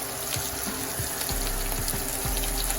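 Corned beef hash frying in a pan, a steady close sizzle and crackle with a constant hiss and occasional soft pops, no voices.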